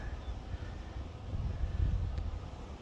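Low rumbling buffet of wind against the microphone at an outdoor beehive, gusting unevenly and swelling midway, with no voices.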